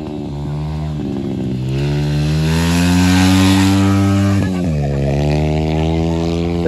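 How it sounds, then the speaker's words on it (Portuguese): An old two-stroke mini motorbike engine runs loudly nearby, revving up to a high whine then dropping back to a buzzing idle. "É resenha com essa moto velha"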